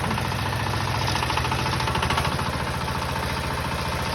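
A Dobrynya 12 hp mini tractor running, its small engine producing a rapid, steady knocking chug at close range that holds constant throughout.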